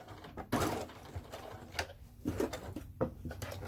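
A sewing machine back-stitches while a simple wallet is sewn, giving a quiet mechanical whir broken by several clicks and taps.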